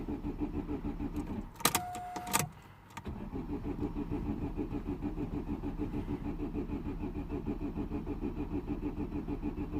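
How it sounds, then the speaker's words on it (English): Vauxhall Astra H 1.6 with a crank-no-start fault: a brief electric whine and clicks, then the starter cranks steadily in a fast, even rhythm and keeps cranking without catching, loud and close, with no voices. "Oh, I can hear the fuel pump."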